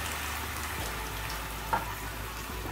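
Red wine sizzles in a pan over sweated onions and garlic, a steady close hiss of frying with a faint clink partway through.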